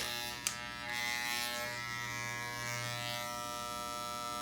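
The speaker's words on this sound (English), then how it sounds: "I'm gonna just break down the hair with a #1 guard comb with the lever closed all the way" Electric hair clippers fitted with a #1 guard comb buzz steadily while cutting hair, close and loud, with a small click at the start and the hum slightly shifting as they move through the hair.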